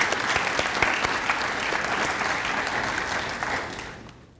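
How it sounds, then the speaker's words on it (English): An awards ceremony audience claps for an honoree, a dense, even round of applause that carries steadily before fading away at the very end. "a big round of applause to Evie Quero"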